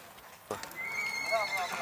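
Horses at a horse market in Kyrgyzstan, with a sudden sound at onset followed by a drawn-out whinny over busy outdoor ambience and voices.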